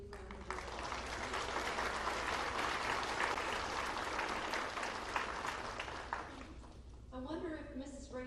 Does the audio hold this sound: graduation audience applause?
yes